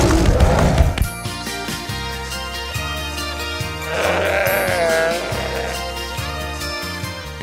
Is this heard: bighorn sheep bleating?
yes